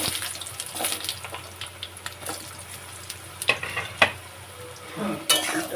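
Potatoes frying in hot oil with two chillies and whole cumin: a continuous soft sizzle under repeated spatula scrapes and stirring clatter against the pan, with a few sharper knocks.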